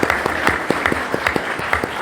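An audience applauds at a museum presentation, a sustained bed of clapping with sharp, fairly regular individual hand claps standing out close by.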